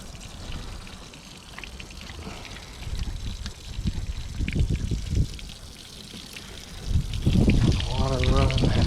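Water pouring and trickling from the cooling outlet of a restored boat's engine on a test run, a steady splashing stream with mechanical noise and voices talking over it.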